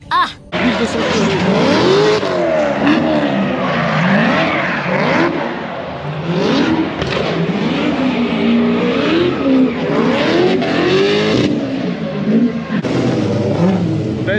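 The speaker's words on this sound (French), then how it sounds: "Là les amis, ça va être une petite session de drift" A drift car at a drift championship, heard from onboard: the loud engine revs up and down with a constantly shifting pitch while the tires squeal and skid throughout.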